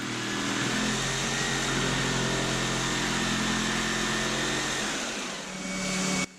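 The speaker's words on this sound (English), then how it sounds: "I can now use my jigsaw to cut the inner circle" A jigsaw cuts the inner circle out of a glued, two-layer ring for a lathe steady rest, giving a loud, steady motor whine that holds for about five seconds before dipping and cutting off.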